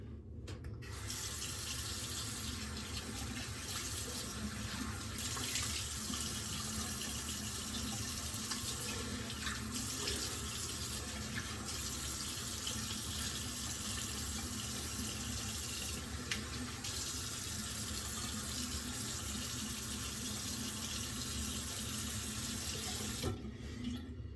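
Water runs steadily from a bathroom tap while a safety razor is rinsed, a constant moderate splash with slight changes as the blade passes under the stream, then it stops; no voices.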